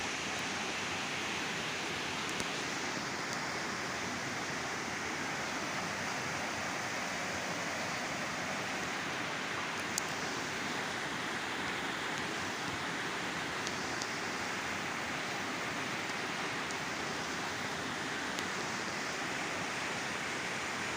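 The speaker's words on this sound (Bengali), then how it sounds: "তো এবার দেখাচ্ছি আপনাদের হচ্ছে মেন যে জল যাচ্ছে সেটা।" A main water channel flows in a steady, dense rush with no break, loud and close throughout with no other sounds rising above it.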